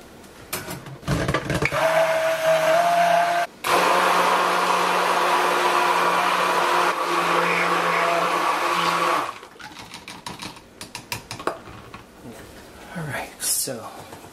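A stick blender whirs through cold process soap batter, a loud continuous motor drone running for several seconds with a brief interruption, then stopping, followed by quieter handling clatter.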